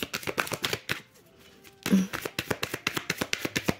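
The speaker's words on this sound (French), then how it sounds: "je vais tirer une carte" Tarot cards shuffled and drawn for a card reading: a quick run of crisp, close riffling taps, a short pause with a faint rustle, then another rhythmic burst of snapping card sounds.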